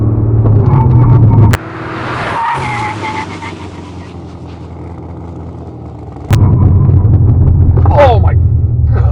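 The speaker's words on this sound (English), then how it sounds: "And I'm gonna slam on the brake, and I want you to just take it all in." 2012 Corvette Z06 Centennial panic stop from 60 mph with ABS engaged: loud engine drone breaks into a sharp tire skid and juddering braking, a quieter pause, then engine noise returns with a voice speaking over it.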